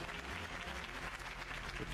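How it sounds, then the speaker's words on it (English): A crowd applauds in Batman: The Telltale Series, a dense, steady wash of many hands clapping at a moderate distance, with faint voices mixed in. "If only Mr. Wayne, my campaign's largest backer, could have heard that applause"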